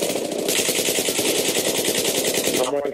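Rapid automatic gunfire from a Battlefield 3 team deathmatch, a loud, continuous rattling burst that runs nearly the full length before cutting off abruptly near the end.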